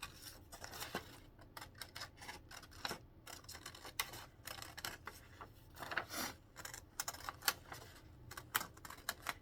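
Scissors cutting a round shape out of craft material, with rapid, quiet, irregular snips and clicks close by at low level throughout.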